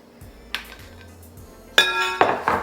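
Eggs being broken up and beaten in a bowl while baking oatmeal cranberry walnut cookies, with sharp clinks of utensil against the bowl, a single knock early and then a louder run of quick clattering strokes near the end.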